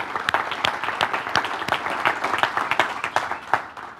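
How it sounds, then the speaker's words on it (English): A live audience applauds at a startup talk, with a dense patter of individual claps and sharper near strikes standing out. The clapping stays steady throughout, with no voices over it. "If we could give Sunir a big round of applause."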